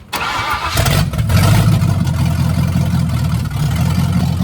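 A Ford Mustang engine starting: a brief crank quickly catches, then the engine fires up and settles into a loud, steady, rumbling idle close by, with no one speaking.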